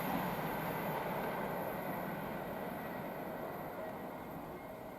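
A Class 390 electric train runs past on the West Coast Main Line at Tamworth, giving a loud, continuous broadband rush of wheels and wind that fades slightly toward the end.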